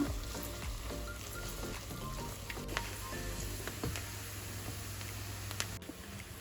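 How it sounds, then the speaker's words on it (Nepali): Ginger and garlic sizzle and crackle steadily in a hot pan, with a few faint ticks and scrapes from stirring; no voices. "फेरि यसलाई एकैछिन भुट्नुपर्छ रातो हुन्जेलसम्म"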